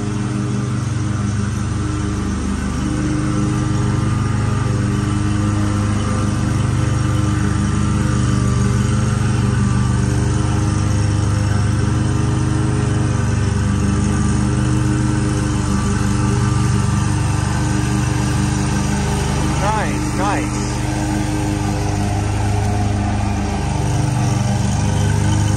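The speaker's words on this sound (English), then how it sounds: "I'm gonna go mow now." A lawn mower drones steadily and loudly throughout a residential lawn-mowing job, its engine note holding constant and close with slight wavering, no voices present.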